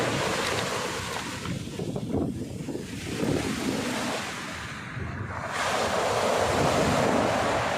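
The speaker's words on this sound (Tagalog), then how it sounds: "Ayan o, dahil maalon, lalaki. Maraming maalon." Rough sea waves surge and crash along the coast at Real, Quezon, with a continuous loud roar of surf and strong wind buffeting the microphone, and no voices.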